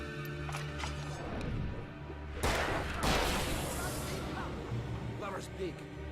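Bursts of gunfire ring out in the Alan Wake video game, a dense volley swelling in the middle over a constant game soundscape while a voice talks throughout.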